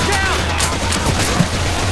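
Gunfire in Left 4 Dead 2, a short stretch of rapid shots blurred into a dense wash over a low hum, fairly loud and continuous.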